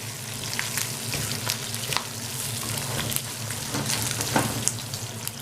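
Sliced garlic and tripe frying in a hot pan give a steady, close sizzle with scattered crackles and pops throughout, no voices present.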